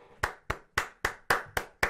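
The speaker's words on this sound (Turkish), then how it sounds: "Bu alkışım ablamıza gelsin." Hand clapping as applause for a singer: seven sharp, evenly spaced claps, close and fairly loud, with no other sound between them.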